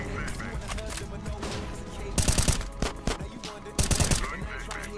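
Gunfire in the video game CS:GO, with sharp bursts of automatic shots and single cracks coming in clusters over a busy game soundtrack while players talk.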